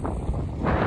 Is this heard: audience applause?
no